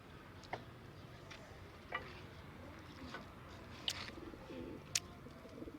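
Pigeons in a home loft cooing softly with low, rolling calls, joined by occasional sharp clicks and flutters against quiet background noise.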